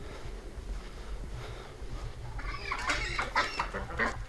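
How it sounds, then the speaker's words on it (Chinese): Farm ducks by a rural pond give a burst of loud, overlapping quacks and clucking calls after a quieter stretch of outdoor background hum. "好多鸭子，啊，恁多鸭子"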